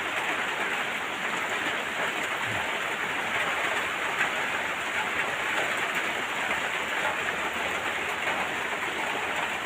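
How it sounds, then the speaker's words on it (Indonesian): Daytime rain falling in a garden, a steady, even hiss of dense drops that continues unbroken throughout, with no voices. "Baru ini turun hujan."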